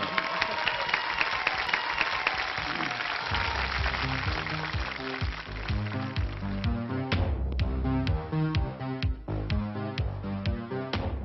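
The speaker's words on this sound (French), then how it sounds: "je vous propose d'applaudir très très fort notre invité pour aujourd'hui" A television studio audience applauds a guest singer, a dense burst of clapping for the first few seconds before a song's music takes over.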